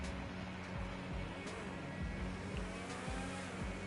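Engine of the FMJ supercar in GTA 5 hums steadily with a low rumble and periodic pulses, moderately quiet and alone with no talk.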